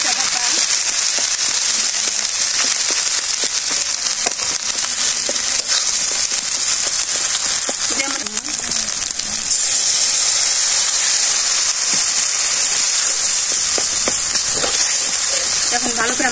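Mustard paste with garlic fries in a pan during simple village cooking, giving a loud, steady, unbroken sizzle that carries evenly from start to finish with only small crackles on top.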